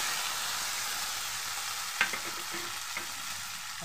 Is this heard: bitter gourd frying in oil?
yes